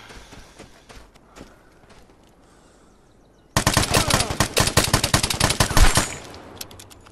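A rapid burst of automatic gunfire from a newly acquired weapon in the shooter game Vigor, loud, close and sharply rhythmic for about two and a half seconds after a quiet lead-in.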